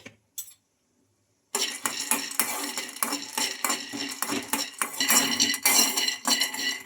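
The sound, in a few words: roasting peanuts in a kadai, stirring with a spoon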